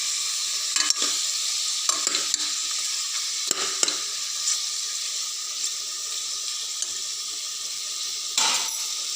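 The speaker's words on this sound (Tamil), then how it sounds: "இந்த சிக்கனை நல்லா கிளறி விடுங்க." Chicken curry with green masala simmers and bubbles in a pan while a spoon stirs it, giving a steady sizzling hiss broken by a few short scraping clatters, close and alone.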